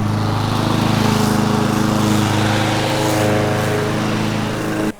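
A John Deere Z740R ZTrak zero-turn lawn mower cuts grass with a loud, steady engine drone and blade hum up close, holding constant for the whole stretch with no talk.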